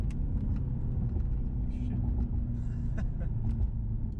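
A 2019 Mercedes-AMG C63S accelerates hard with a little wheel spin, its engine a dense, steady low roar heard from inside the cabin, with voices talking over it.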